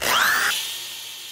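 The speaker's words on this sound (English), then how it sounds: "Okay, let's sand it off. So I've got my 80 on here." Power sander with 80-grit paper on a soft cedar fencing board, a brief loud whirring buzz that drops off after half a second and fades as the tool spins down.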